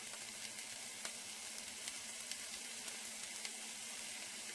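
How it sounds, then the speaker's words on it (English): Onion and garlic sizzle steadily in olive oil in a pan over medium-high heat, a soft continuous frying hiss dotted with small pops and crackles. "In a pan, olive oil, medium-high heat, we're going to cook the onion and the garlic for 5 minutes."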